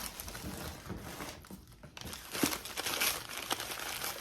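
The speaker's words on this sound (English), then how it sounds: "I think the paper, because I'm unwrapping everything" Paper wrapping around thrift-store finds crinkles and rustles up close as items are unwrapped, in irregular bursts with a brief pause midway; no talking.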